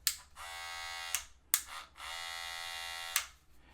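GAMMA barber hair clippers buzz in a steady, even hum, switched on and off to give three separate running spells, fairly quiet and close with no voices.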